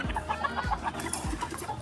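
Gamefowl stags at a gamefarm in Bacoor, Cavite, clucking in short repeated bursts close by, with a few low thumps underneath and no talking.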